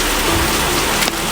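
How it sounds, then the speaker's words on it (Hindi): Heavy rain pours steadily in a dense, close, loud hiss of drops hitting surfaces, with no voices over it. "बारिश बहुत तेज हो चुकी थी।"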